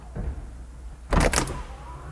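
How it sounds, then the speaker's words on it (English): A Lexus full power hydraulic convertible top operating, heard as a brief loud mechanical whir and clunk burst of about half a second, then a steadier motor hum, close by with no talk. "it's a full power hydraulic convertible"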